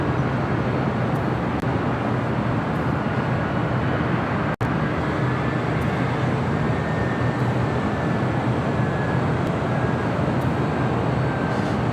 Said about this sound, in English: That is Delta Airlines Flight 972. We'll be heading to JFK in this 33-year-old 767-300ER.